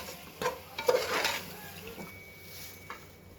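Spices and yogurt get stirred through prawn biryani in a pan, giving a few soft scrapes and clinks of a spoon against metal over a faint sizzle. The sounds are quiet and scattered, with brief muffled noises between them.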